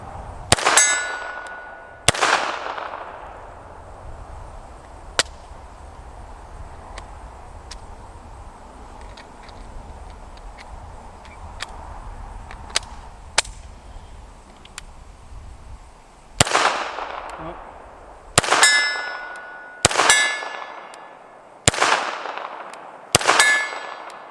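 Canik TP9 pistol shots ring out against a steel silhouette target at an outdoor range: sharp cracks each followed by a bright metallic clang, a few early shots, then a quick string of five near the end.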